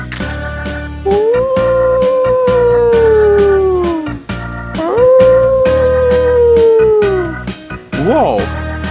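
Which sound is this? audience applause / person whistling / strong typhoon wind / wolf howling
wolf howling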